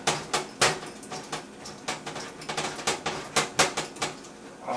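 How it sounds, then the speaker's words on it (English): A handheld can opener works around a food can, giving a series of sharp metallic clicks and clanks in an uneven rhythm, close and moderately quiet, with no talk. "I'm going to take my handy dandy can opener and just get this can prepped."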